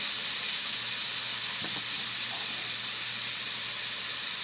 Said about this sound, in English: you'll let that sear, whatever, until it's about seared pretty good